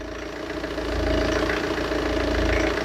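Tata Safari diesel engine idling after an overhaul, a steady low rumble with a rough, knocking texture that rises slightly in loudness partway through and continues alone without talk.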